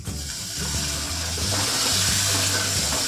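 Half a cup of water poured into a pan of cooking onion masala for a Gujarati curry, a close, steady gushing splash that builds after a brief start and runs continuously to the end.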